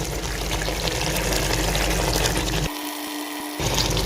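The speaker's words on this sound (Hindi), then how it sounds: "स्टेज पे हम इसमें ऐड करेंगे जी मैरिनेट किया हुआ चिकन।" Marinated chicken hits a hot pan for white karahi, a loud, constant hiss and sizzle of frying that briefly drops off before the sizzle resumes, with no voices.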